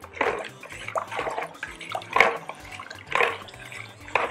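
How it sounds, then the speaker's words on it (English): Water poured and splashing into a bowl for a sugar, water and cooking oil solution for buns, coming in several separate splashy bursts close to the mic. "now we are going to mix sugar and water, cooking oil together to make a solution"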